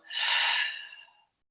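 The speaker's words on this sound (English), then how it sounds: "Breathing out." A single deep breath is let out through the open mouth during an energizing yoga sequence, a soft airy exhale that swells quickly and fades over about a second, close and alone.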